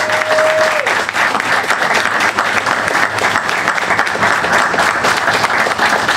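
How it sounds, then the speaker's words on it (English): A crowd applauds at a juvenile justice program ribbon-cutting ceremony, loud and steady dense clapping for several seconds, with a brief tone fading out at the start. "Let's give them a round of applause."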